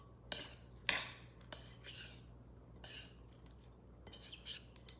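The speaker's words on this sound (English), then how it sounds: "Stir that together." A utensil clinks and scrapes against a dish while a fresh green and white mixture is stirred together, with a few sharp taps and softer scraping strokes at a moderate distance and no talking.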